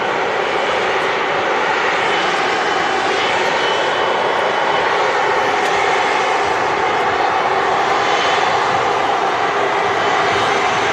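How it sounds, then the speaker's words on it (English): Air Canada Airbus A330 jet passing at Manchester Airport, a continuous loud engine roar holding steady throughout with no pauses. "The Air Canada 330 just going straight past us."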